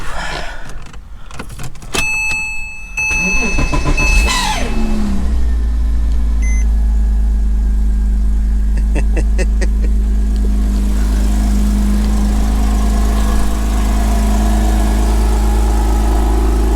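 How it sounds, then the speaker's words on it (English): A 2005 Porsche Boxster S 987 under rebuild cranks with chimes sounding, then catches and fires up, settling into a steady, loud, close idle that runs on evenly for over ten seconds. "to see what's gonna happen when we gonna attempt to start the car"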